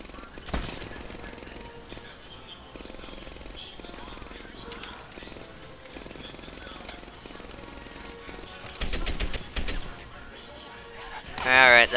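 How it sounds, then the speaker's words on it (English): Machine gun fire in the World War II shooter game Medal of Honor Airborne, heard as rapid rattling bursts and a dense volley near the end over a continuous rumbling game soundscape. "I hear another machine gun, but I think it's probably just another person on another machine gun"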